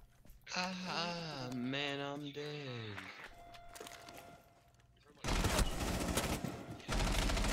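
Rapid gunfire bursts crackle in the Rainbow Six video game after a stretch of talking, coming in dense, loud volleys near the end.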